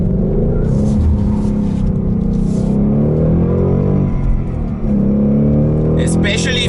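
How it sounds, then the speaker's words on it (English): A Ford Mustang GT 5.0 V8 engine revs hard and loud in track mode, its roar rising and holding steady for several seconds, up close. "Listen to this screaming V8,"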